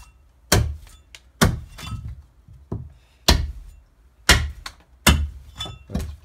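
Willow wood being cut by hand to make Dutch wooden shoes in the Netherlands: a series of sharp, heavy thunks at uneven intervals, close and loud, with quiet gaps between the blows.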